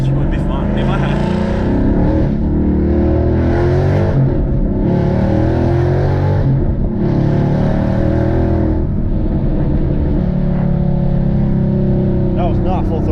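A Ford Mustang S197 engine revs in strong, repeated surges, loud and close, with a steady low rumble between pulls and voices talking over it.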